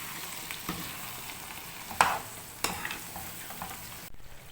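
Chicken pieces cooking in a pot with half a cup of added yogurt give a steady low sizzle, with a couple of sharper stirring scrapes partway through before it cuts off near the end.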